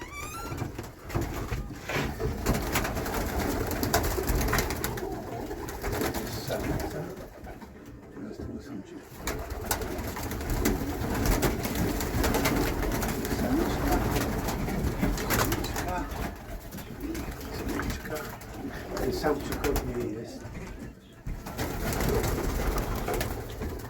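Fancy pigeons coo steadily at a breeder's loft in Szczecin, a dense overlapping chorus of soft throaty calls from many birds close by, with people talking underneath and occasional rustles and knocks.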